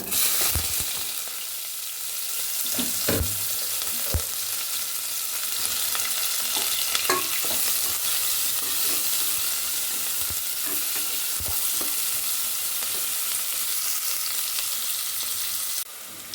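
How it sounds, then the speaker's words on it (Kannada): Onions sizzle and fry in hot oil with mustard seeds and cumin for a brinjal curry, a constant loud hiss broken by a few scraping stirs of a spoon against the pan. "ಇವಾಗ ಈರುಳ್ಳಿಯನ್ನು ಹಾಕ್ಕೊಳ್ಳೋಣ"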